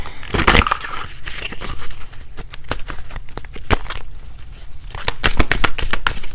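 Tarot cards being shuffled by hand at close range, a loud papery riffle and crackle with repeated sharp snaps of card edges throughout.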